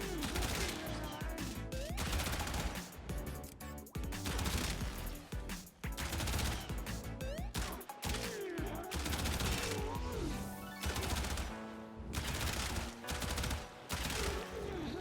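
Soma Prime assault rifle fire in the Warframe video game, with loud, dense bursts of rapid automatic shots that continue almost without pause through the clip and rise over busy in-game effects.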